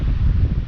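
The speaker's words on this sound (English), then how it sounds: "It's really windy today" Strong wind buffeting the microphone outdoors beside an RV, a loud, low, continuous rumble across a brief moment.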